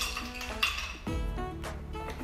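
Ice cubes dropped into orange juice in a blender jar clink and rattle against the container in a short, moderately loud burst with no talking.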